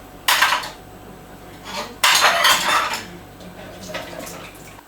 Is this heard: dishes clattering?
yes